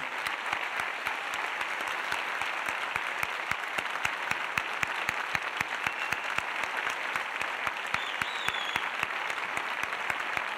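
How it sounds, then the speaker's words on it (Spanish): An audience at a science outreach event claps steadily for about ten seconds, a dense even wash of hand claps filling the room without any talking. "Un aplauso para ellos primero."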